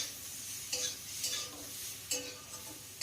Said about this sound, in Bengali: এখন খুব ভালো করে এই লবণ আর হলুদটা এই ডাঁটা আর আলুর সঙ্গে মিশিয়ে নিতে হবে, একটু ভাজা ভাজা করে নিতে হবে।